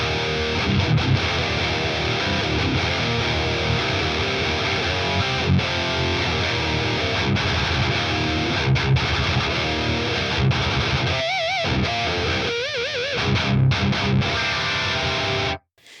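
Heavily distorted electric guitar through a Fractal AX8 running a Rectifier amp preset with a Justin York impulse response, thick and continuous for about fifteen seconds, loud and dense with a fizzy top end, then cutting off abruptly.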